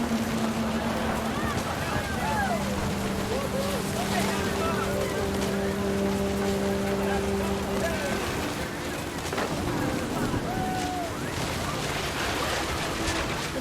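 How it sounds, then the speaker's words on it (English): Heavy rain pours down in the video game What Remains of Edith Finch, a steady, dense hiss that never lets up, with soft sustained musical tones drifting over it. "Rain came down in buckets then"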